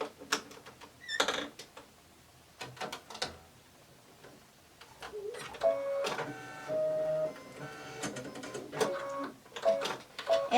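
An embroidery machine stitches snow detail onto a mini quilt in white thread, giving rapid mechanical ticking and whirring in several separate bursts with short pauses, close and moderately loud.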